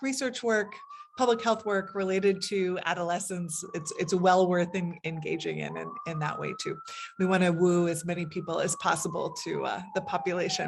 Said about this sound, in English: Apologies for the sirens going by.